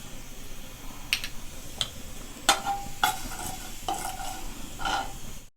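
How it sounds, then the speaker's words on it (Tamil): A spoonful of coriander seeds stirred and dry-roasted in a pan for a peanut powder, with close scraping strokes and rattling clicks at irregular intervals over a soft steady background hiss. "அதே பேனில் ஒரு ஸ்பூன் மல்லி போட்டுக்கிறேன்."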